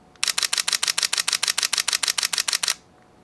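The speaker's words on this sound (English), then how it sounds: "its ability to shoot 11 frames per second" Sony a6000 camera shutter firing in continuous burst mode at 11 frames per second: a rapid, even string of about twenty crisp, close mechanical clicks lasting roughly two and a half seconds, then silence.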